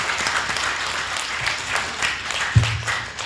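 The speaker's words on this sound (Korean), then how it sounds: "다시 한번 박수를 주십시오." An assembly audience at a Korean gathering applauds in a continuous, moderately loud wash of clapping, with a thump partway through.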